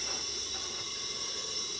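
A continuous, even hiss of steam streaming out of a smoke machine, steady and close with no change in level.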